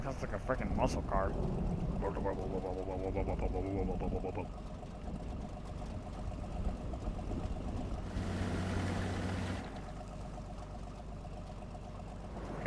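Low, steady idle drone of a tank engine in World of Warcraft, running beneath lively conversation, with a brief rougher surge near the end.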